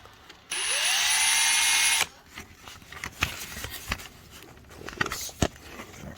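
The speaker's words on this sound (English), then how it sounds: "I've got some tiny little holes drilled in there" A power drill boring tiny holes into the trunk of a Nissan Silvia drift build spins up in one close, loud whine lasting about a second and a half. Scattered knocks and clatter of handling the car body follow.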